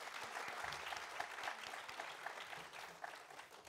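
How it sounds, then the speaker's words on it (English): Audience applause for guests at a design event in India, steady clapping from a crowd filling the room throughout, moderately distant and even. "Please give them a huge round of applause."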